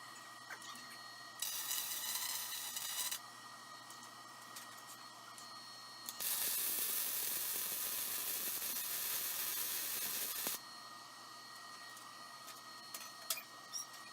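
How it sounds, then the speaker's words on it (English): Welding short pieces of angle iron onto a DIY boomless ATV sprayer frame produces bursts of crackling, hissing arc noise, one brief and one longer, over a quieter background hum. "I'm welding on short pieces of angle iron to help retain the tank"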